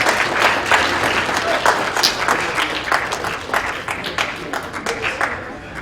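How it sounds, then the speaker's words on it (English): A conference audience in the nation's capital claps loudly, a brisk, thick round of applause that swells and holds for several seconds before starting to thin. "So give yourself a hand of applause."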